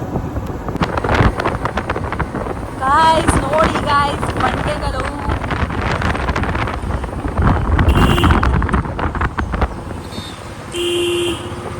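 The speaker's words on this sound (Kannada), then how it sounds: "ಎಂಥ ಗಾಳಿ ಇದೆ ಅಂದರೆ ಫೋನೇ ಕೆಳಗಡೆ ಬೀಳೋಷ್ಟು ಗಾಳಿ ಇದೆ" Strong wind buffets a phone microphone outdoors at a rocky spot at a Tavarekere resort, producing a constant heavy rumble and roar throughout, with a person talking over it.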